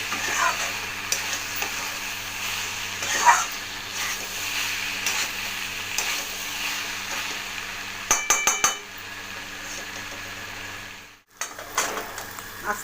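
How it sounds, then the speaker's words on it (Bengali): Chicken keema being fried and stirred in a pan, a constant sizzle with occasional clinks and scrapes of a utensil against the metal, a cluster of sharp taps near the end, no speech. "এটা আমি মিনিট দুই মিনিট ধরে কষিয়ে নিচ্ছি"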